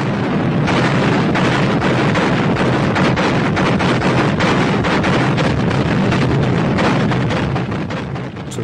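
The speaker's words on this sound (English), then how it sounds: "all anti-aircraft guns suddenly commenced firing, hundreds of shells exploding like some crazed fireworks display high above the city" Anti-aircraft guns fire over a city with shells bursting overhead, a loud, dense barrage of rapid booms and cracks that pounds on without pause, no voices heard.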